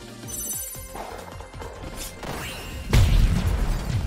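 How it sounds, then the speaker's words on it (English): A missile strikes the ground in the video game One Step From Eden, a sudden loud booming crash near three seconds that lingers as a dense rumble over ringing, bell-like game music and effects. "that's what happens when the missile hits the ground"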